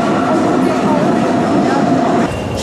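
An S3 S-Bahn commuter train rumbles into a station with a loud, steady rolling roar and faint rail squeal, close by and continuous throughout.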